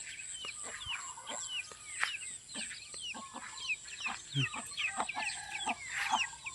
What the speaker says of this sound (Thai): เป็ดไก่ลงมาละ